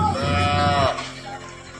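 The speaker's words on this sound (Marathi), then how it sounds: "बघा हे वासरू आलं नंतर तिला शोधत आणि लागलं जोरजोरात हंबरडा फोडायला" A loud, drawn-out moo from a calf searching for its mother, lasting under a second, followed by quieter background noise.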